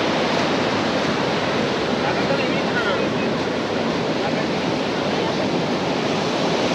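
Continuous broadband surf of ocean waves at Calangute Beach in Goa, a steady wash that stays loud and even throughout, with no distinct breaks or voices.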